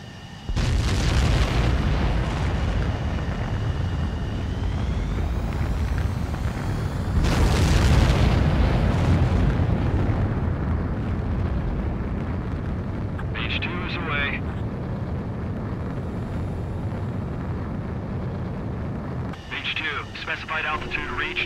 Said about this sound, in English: Mage 2, begin takeoff sequence.